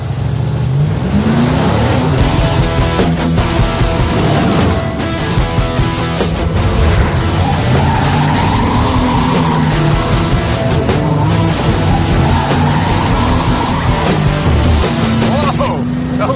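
A Mercury Cougar's EFI V8 revs hard and loud up close, with the pitch climbing and falling through repeated throttle blips, over a rough, rumbling idle. Voices can be heard beneath the engine.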